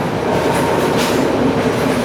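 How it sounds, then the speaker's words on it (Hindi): A train runs at a good speed along the Indian Ocean coast near Colombo, a steady loud rumble and rattle of carriages throughout, close and continuous with no talk. "एक अच्छी रफ्तार में चलने वाली ट्रेन और समंदर के साथ साथ पैरेलल"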